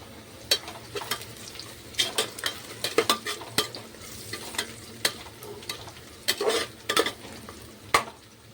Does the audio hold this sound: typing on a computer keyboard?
no